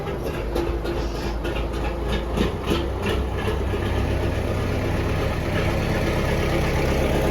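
A heavy diesel tractor engine idles nearby with a steady low drone and a rhythmic clattering knock, no talking over it.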